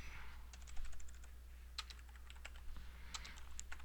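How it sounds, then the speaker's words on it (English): Soft, quick keyboard clicks come in scattered bursts as an address is typed on a computer keyboard, fairly close but quiet over a steady low hum. "we're going to type in that address"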